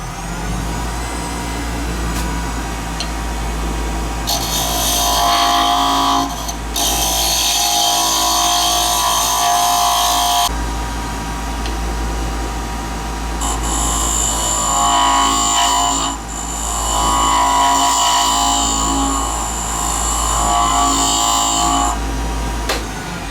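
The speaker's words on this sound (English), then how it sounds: "I'm going to turn down about the width of my carbide cutter" A wood lathe turns a custom finial while a carbide cutter works the piece, giving a steady motor hum under two long stretches of bright, hissing scraping from the cut.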